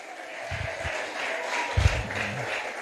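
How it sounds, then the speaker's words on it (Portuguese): A church congregation claps steadily in a large hall, with a soft, continuous wash of applause and a few louder nearby thumps. "podem aplaudir ao Senhor Jesus. Aplaude mais forte."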